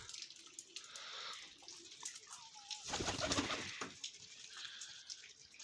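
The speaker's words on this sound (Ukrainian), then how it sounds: "Так, ось такий шоколадний голуб." Chocolate marble Baku pigeon cooing softly, with a low bird call amid a background of dripping and splashing water, the sound swelling briefly louder midway.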